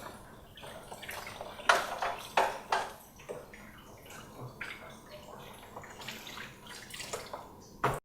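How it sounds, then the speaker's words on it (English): A spoon washed under running water at a kitchen sink during a cooking class, with a steady water flow, several sharp clinks and knocks of the spoon, and a final clatter at the end. "So I'm going to wash my spoon."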